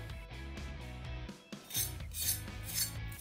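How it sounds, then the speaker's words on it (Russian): A sharp knife draws rhythmically across fried chicken on a cutting board, a series of short rasping strokes close up, with no talking. "Аккуратно, резвыми движениями острого ножа нарезаем курицу на такие вот кусочки."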